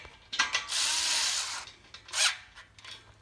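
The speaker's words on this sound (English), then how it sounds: "All I'm going to do now is stick my wrench in there." A ratchet wrench tightens bolts while assembling a Walkabout workbench, producing close, rapid clicking bursts, one long run of clicks followed by a shorter one, with no talking.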